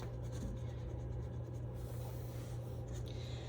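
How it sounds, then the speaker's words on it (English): Green crayon scribbling short strokes on paper to draw blades of grass, a soft close scratchy rubbing over a steady low hum, no talk. "I'm gonna add a couple different blades of grass with my green crayon"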